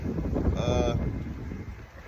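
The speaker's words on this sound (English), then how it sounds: "It's very windy here." Strong wind buffets a phone microphone outdoors, a low rumbling roar that swells and fades over a couple of seconds, with a brief tonal whistle partway through.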